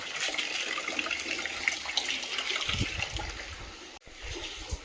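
Heavy rain pours down steadily in a continuous broadband hiss and splashing wash, with a few low thumps and a brief dropout near the end.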